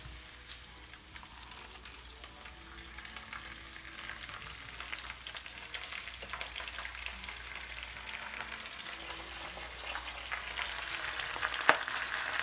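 Little cabbage fries in a pot with a steady hiss and crackle that builds gradually over about twelve seconds, marked by occasional sharper pops and stirring scrapes, with no talking.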